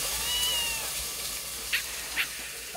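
A cat meows twice in short, high calls near the end, heard at a coastal village home over a steady hissing background, with no speech.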